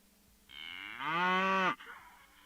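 Cape Buffalo call from the video game The Great Circle, rendered as a single long, loud, cow-like moo that rises, holds steady and cuts off sharply, close and alone with no talk.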